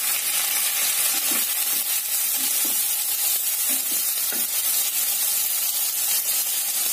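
Diced potatoes and tomatoes frying in an oiled pan for sabudana khichdi, a steady close sizzle and hiss with occasional soft stirring scrapes, no talking.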